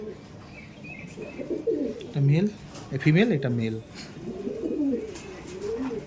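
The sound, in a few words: Kaldom pigeons cooing in a loft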